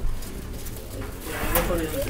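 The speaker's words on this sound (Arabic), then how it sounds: "لسه حمامات صغيره بسم الله ما شاء الله يعني" Young pigeons coo softly in a loft, a few brief low coos under someone speaking and handling the birds close by.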